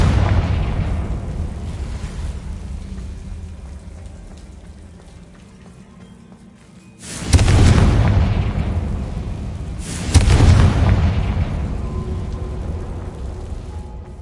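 Two loud booming bursts from an explosion spell in a wizard video game, about three seconds apart, each hitting sharply and fading slowly over a constant rain-like hiss in the background.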